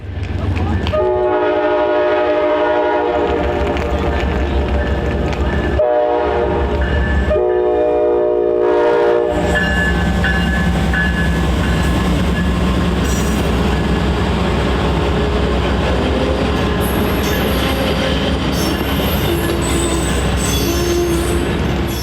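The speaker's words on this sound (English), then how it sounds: "Amtrak train PO92 was soon to pull in for an on-time arrival to Hamlet." An Amtrak passenger train rumbles into Hamlet, North Carolina, with a loud, steady roar, a long blaring horn sounding at the start before the grinding wheel noise and screeches take over.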